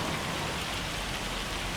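Steady rain falling in the Farming Simulator 25 farming game, a dense continuous hiss of drops on surfaces, even and unbroken throughout with no voices.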